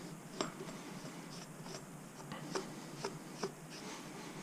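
A motorcycle brake disc on an FB Mondial HPS 125 being cleaned on its face, heard as soft, quiet rubbing and scuffing strokes with a few sharper light ticks, close but faint against a low background hiss.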